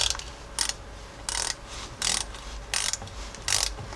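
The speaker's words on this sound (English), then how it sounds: "And then we can go and snug up these bolts." A ratchet tightens wheel cylinder bolts on Jeep Cherokee XJ drum brakes in five loud, even bursts of rapid clicking separated by short pauses, close and with no talking.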